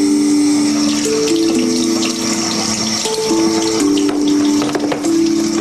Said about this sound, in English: let me run some cool water on it